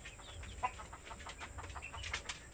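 A mother hen and a flock of about twenty chicks make soft, faint clucks and scattered high peeps in quick bursts, heard from some distance with a steady background hum.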